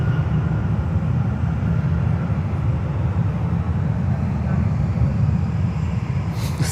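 A JetBlue Airbus A321 at Fort Lauderdale airport produces a continuous deep jet rumble, steady and fairly loud throughout, with a brief brighter hiss at the very end.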